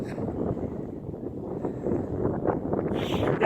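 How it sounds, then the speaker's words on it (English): Strong gusty wind buffets an outdoor microphone, a rough low rumble that swells and thickens toward the end, with faint higher hiss over the last second. "You know it's windy when it blows your hat off."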